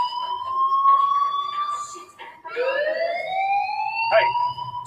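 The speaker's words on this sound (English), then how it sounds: "do you hear that fire alarm?" A fire alarm in the video game Life is Strange wails as a steady, loud electronic tone that drops and then sweeps upward again, with a voice speaking faintly underneath.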